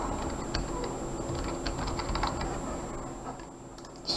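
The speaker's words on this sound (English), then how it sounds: "This time I'm just going to be typing up something here." Keys clatter on a computer keyboard in a quick irregular patter of light taps, fairly close and moderately quiet against a faint background hum.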